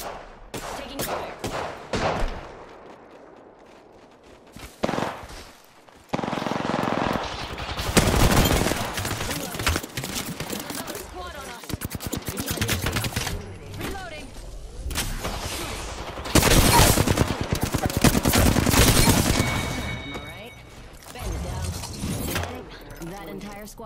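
Apex Legends gunfire comes in loud, repeated bursts of rapid automatic shots and single cracks, stopping and starting through a firefight, with spoken voices in between and over the shooting.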